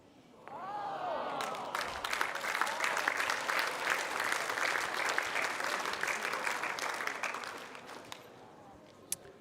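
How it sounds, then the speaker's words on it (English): A crowd at an indoor bowls championship final breaks into sustained applause, loud and steady for several seconds before tapering off, with no voices heard. "The crowd claps"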